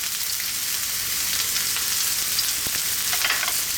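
Ginger strips and sliced garlic fry in oil alongside skin-side-down salmon, a loud, continuous close sizzle with fine crackling and a few sharper pops and spits, with no talk over it.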